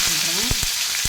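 Curry leaves hit hot oil with green chillies and mustard seeds, producing a brief, loud burst of hissing sizzle with a few sharp spitting pops up close.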